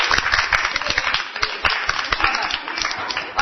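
A small group claps for a girl who has taken on family responsibility young, irregular close claps with some voices in the background.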